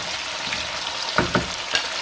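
Tomatoes cooking in a karahi for lam karahi, a steady sizzle and hiss with a few sharp scraping clicks of a utensil near the end.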